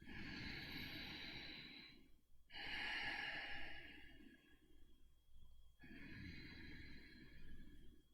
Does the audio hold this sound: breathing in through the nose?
yes